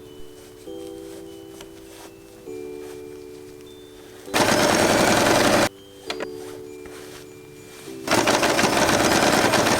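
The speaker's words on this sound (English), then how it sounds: "Then we will sew all along the fabric." A sewing machine stitches faux fur fabric for a Christmas scrunchie, running in two long loud buzzing bursts separated by a quieter humming pause and a short gap, close up with no voices.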